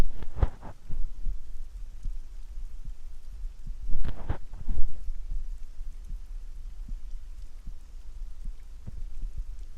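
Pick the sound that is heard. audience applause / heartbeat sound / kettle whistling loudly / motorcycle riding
heartbeat sound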